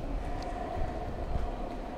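Interior of a limited express train heading to Sendai, Japan: continuous low rolling rumble and wheel noise at a steady, moderate level, with no voices.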